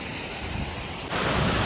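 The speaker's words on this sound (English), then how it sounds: "This is the waterfall, water coming from the top" Rushing monsoon waterfall on the Harishchandragad trek, a steady broadband roar of falling water that swells noticeably louder partway through, with no voices.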